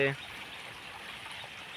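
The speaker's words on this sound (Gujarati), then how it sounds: "ચણામાં પાણી વારવાનું હતું" Irrigation water flows into a chickpea field with a steady, soft rushing hiss, just after a brief voice cuts off at the start.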